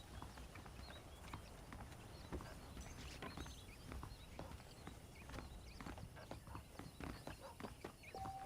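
Horses clip-clop along with their hooves in a Western video game setting near a ranch, a steady scatter of hoof strikes over a busy outdoor ambience with faint whinnies and birds.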